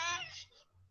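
A cat gives a single short meow up close, bright and tonal, trailing off quickly into quiet room sound.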